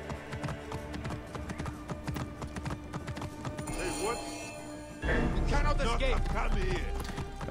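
A horse gallops in Assassin's Creed Origins, with steady rhythmic hoofbeats and occasional thuds and crashes. A person talks over it throughout, and the game sound grows louder partway through.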